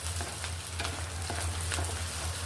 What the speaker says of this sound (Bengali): পায়াটা ভাজি করতে করতে আমার পেঁয়াজটাও আমার ভাজি হয়ে যাবে